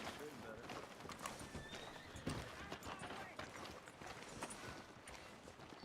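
Horse hooves clip-clop at a walk while a horse neighs in Red Dead Redemption 2, with voices talking over the steady background.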